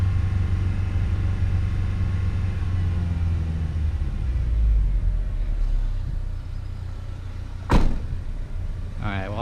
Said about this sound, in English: Gonna hold the RPMs, let it heat up.